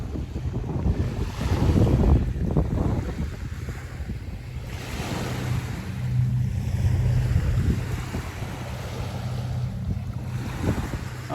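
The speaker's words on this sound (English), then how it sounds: "it's nice being down here listening to the waves and looking at boats and stuff" Waves roll steadily onto the shore at Discovery Park in Seattle, a continuous close surging wash with gusty wind buffeting the microphone and swelling in a couple of stronger surges.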